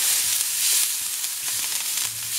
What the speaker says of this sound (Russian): Лук немного обжариваем.